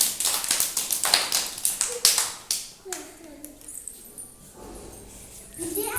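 A small group claps hands in quick, uneven bursts of sharp slaps for a couple of seconds, then fades as a child's and adult's voices speak close by.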